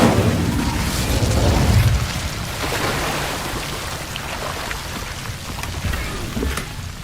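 A fire spell cast in the Hogwarts Legacy video game: a loud, roaring whoosh and rumbling burst open the clip and fade after about two seconds into a crackling, rain-like hiss with faint pops, with no talking.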